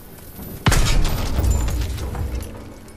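A thermite charge detonates on an enemy gun in a Call of Duty WWII battle, one sudden loud boom followed by a long rumbling roar that slowly fades under continuing battle noise.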